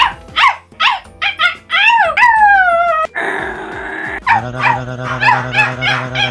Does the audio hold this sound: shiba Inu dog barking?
yes